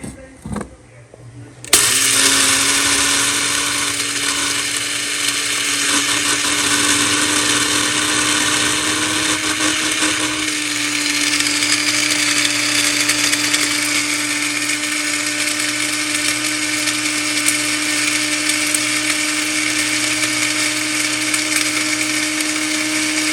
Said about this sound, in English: I've got all my potatoes in my grinder, and I'm getting ready to start the grind on those.